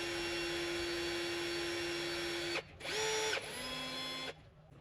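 A power drill fitted with a rivet gun attachment whirs steadily at close range, then stops and restarts in short bursts as rivets are set during an Aussie Traveler Anti Flat Kit Pro install.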